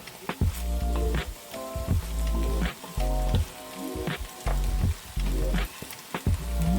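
Seafood browns in a hot pan for spaghetti de la mer, sizzling and crackling steadily, with intermittent stirring knocks and clatter up close.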